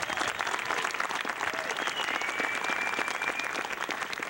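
A seminar audience claps steadily in sustained applause for a special guest at a pressure-point martial arts session, dense and even throughout with no talk.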